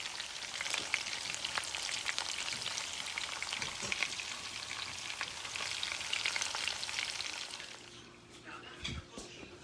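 Meatballs frying and being turned in a pan for Italian wedding soup, with a loud continuous sizzle and crackle and some clinks of a utensil. The sizzle drops away near the end as the pan goes quieter.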